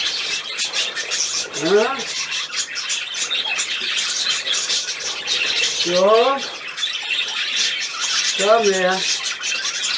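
Pet budgerigar giving three short bursts of raspy squawking and warbling chirps, loud and near, separated by pauses while someone talks to the bird in German.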